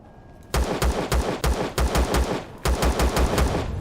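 Enemy gunfire in the video game Empyrion: a sudden start into loud, rapid bursts of shots, a short gap, then another quick burst, with no talking.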